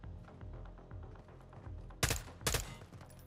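Bursts of gunfire in Call of Duty Modern Warfare 2, aimed at bringing down an aircraft: two loud, close volleys over a steady background of game noise, with no talking.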